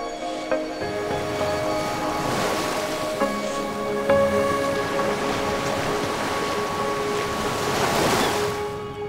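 Ocean waves roll and wash onto a beach where orcas hunt, a steady broadband surf rumble with swelling surges, heard alone without talk over roughly nine seconds.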